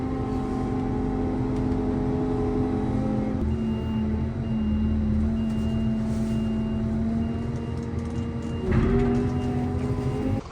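A truck lifts a front box off a trailer, its engine droning steadily with a rhythmic reversing beep repeating throughout, then a brief rise in engine note near the end, no talking.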